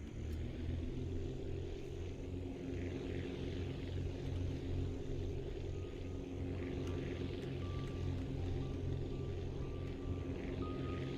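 Propeller aircraft engine droning steadily in the flight-building game Aviassembly, a constant low rumbling hum with a whining tone, no talking over it.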